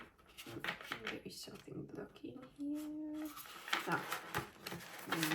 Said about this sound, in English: I love the sound of this deck shuffling too